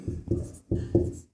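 Chalk or marker strokes against a classroom board as a maths solution is written out, four short scraping bursts in two pairs, close and clear with brief pauses between.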